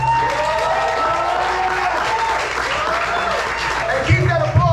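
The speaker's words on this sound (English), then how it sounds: "keep that applause going for your second poet" An audience at a poetry slam claps and cheers between poets, a continuous wash of applause with voices and whoops mixed in, and some talk over it toward the end.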